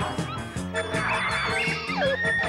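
Cartoon dogs in a Bouba the little bear episode let out a quick string of yips, barks and rising and falling whimpering whines, close and lively against a busy animated soundtrack.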